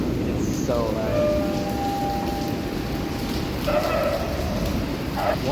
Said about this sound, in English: This is my first time seeing the heavy rain.